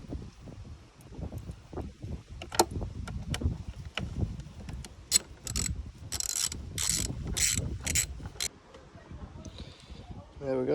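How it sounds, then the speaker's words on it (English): A cover is screwed back down under the bonnet of a Ford Fusion 1.4 TDCI during servicing, with quick bursts of ratchet clicking and light metallic handling noises close by. "And screw it back down."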